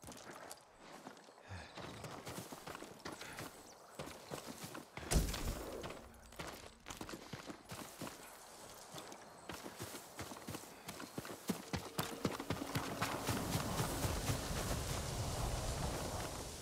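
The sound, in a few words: horse hooves clip-clopping, video game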